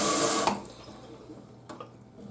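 A kitchen faucet with a newly replaced cartridge runs water into the sink, a loud splashing rush for the first half second that then drops to a quieter, steady trickle with a couple of small clinks.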